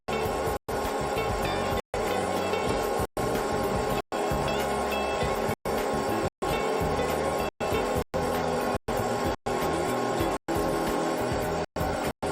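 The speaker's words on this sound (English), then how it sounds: "continue feeding and grinding." Workpiece being ground on an engine-shop grinding machine, a steady loud broadband grinding roar with low mechanical rumble, broken by brief sharp gaps at irregular intervals, with no talking.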